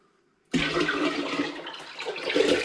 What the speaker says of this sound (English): Right, I'm going to brave a big pour now